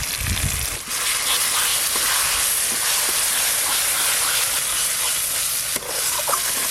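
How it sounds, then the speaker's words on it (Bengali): Steady, loud sizzling of a ground cumin, dried red chilli and turmeric paste frying in a hot pan, with occasional stirring scrapes, continuous throughout with no talking. "মশলা সব তো ভাজাই আছে, এই মশলা কষতে খুব বেশি সময় লাগে না।"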